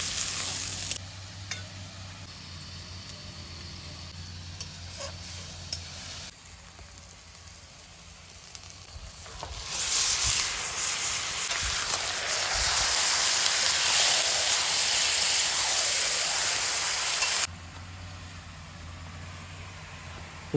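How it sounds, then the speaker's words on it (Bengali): Pork frying with onion and green chili in a wok at a village cooking spot, a soft sizzle at first that swells into a loud, bright hiss for several seconds mid-way before dropping back down. "তারপরে শুয়োরের মাংস দিয়ে শুয়োরের মাংসটাকেও হালকা করে ভেজে"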